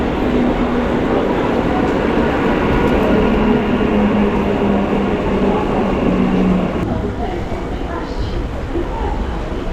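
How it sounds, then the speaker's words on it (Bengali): A local train at Dum Dum Cantonment railway station on a Duttapukur–Sealdah service, its steady rumbling roar continuing loud and close throughout, with a low hum that drops slightly near the end. "এই দত্তপুকুর শিয়ালদা লোকাল ট্রেনে আমাকে উঠতে হবে।"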